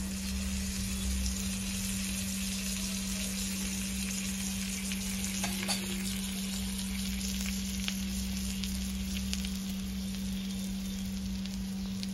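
Butter sizzles in a pan under a frying moong dal omelette. A steady crackling fry carries on throughout with a constant low hum behind it, and no one speaks.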